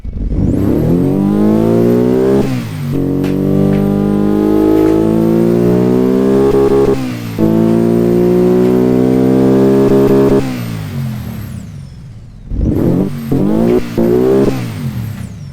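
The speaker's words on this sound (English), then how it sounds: "being a very high and very rich air fuel ratio, it will pop and bang as you can hear." Car engine tuned to a very rich air-fuel ratio, revving hard with loud pops and bangs from the exhaust, a long sustained run, a sudden cut near the end, then a second short burst of revs, close and loud with no talking.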